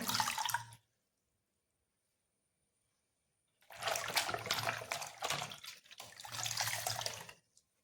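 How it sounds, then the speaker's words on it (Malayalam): Water splashes and runs in two bursts while a face is being washed, close and moderately loud, with a long silent gap between them. "നമുക്ക് നമ്മുടെ മുഖമൊക്കെ വാഷ് ചെയ്ത് കൊടുക്കാം"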